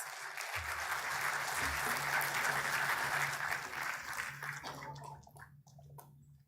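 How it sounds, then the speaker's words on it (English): An audience applauds award winners at a conference prize ceremony at NICMAR University, Pune. Dense, even clapping fills the hall for several seconds, then thins out and fades. "Please give them a warm round of applause."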